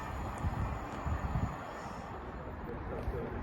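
A train, the 350 service from Northampton to London, rushes past with a broad steady rumble and wind-like roar, moderately distant and fairly quiet.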